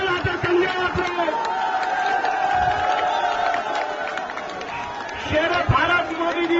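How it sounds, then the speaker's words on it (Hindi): Large crowd at a political public meeting in Firozabad, Uttar Pradesh, cheering and clapping in a loud, continuous roar, with amplified voices and shouting mixed in. "ये ऐसी तालियां बजती रहे।"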